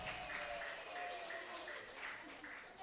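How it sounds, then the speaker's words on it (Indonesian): Applause for prize winners at a church women's World Day of Prayer service, a steady wash of clapping from a gathered congregation filling the room continuously, with voices murmuring underneath. "tepuk tangan yang meriah buat pemenang kita"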